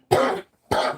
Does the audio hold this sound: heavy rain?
no